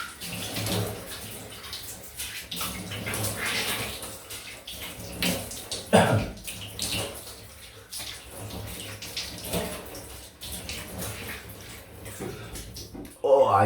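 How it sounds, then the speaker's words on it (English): Cold running water splashing over a man rinsing off after a wet shave, a steady close gush with brief louder splashes and some speech over it. "Now I'll just rinse off in the cold."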